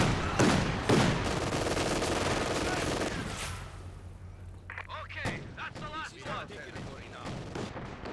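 Rapid machine gun fire and gunshots in a Company of Heroes 2 multiplayer battle, dense bursts early, then scattered shots and a spoken voice over the continuing combat noise.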